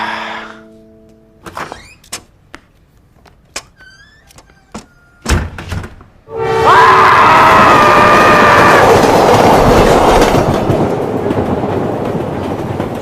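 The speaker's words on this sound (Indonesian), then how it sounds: "Sepi banget ya kereta." A passenger train running on rails, a loud steady rumble with clattering and squealing tones that swells in after a series of sharp door thunks and knocks, continuing close and dominant to the end.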